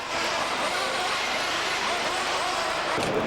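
A racing truck engine roars loud and steady with a dense, continuous rumble from start to finish, with no letup.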